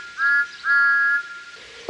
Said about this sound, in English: "Peep, peep, peep! Where is the conductor?" whistled Thomas.